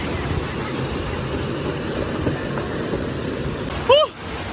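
San Roque Waterfalls in Claveria, a constant loud rush of falling water filling the clip, with a short voice near the end.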